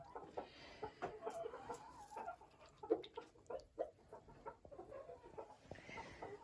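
A hen with her chicks clucks softly near cup drinkers, with scattered faint peeps and clucks in an irregular rhythm, close but quiet.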